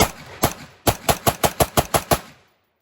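A PSA AR rifle fires about ten loud, sharp shots close by: two spaced rounds, then a quick, even string of eight, ending in a fading echo.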